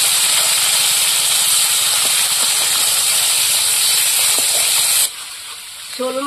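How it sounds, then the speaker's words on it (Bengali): Snakehead fish sizzling loudly in hot frying oil, a close, continuous hiss that drops abruptly to a quieter simmer near the end. "শোল মাছগুলো আগে ভেজে নিচ্ছি।"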